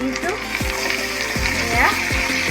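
Marinated chicken for lemon chicken sizzles and fries in a hot pan with a steady crackle, broken by scraping stirs. It is close and continuous, with no talking.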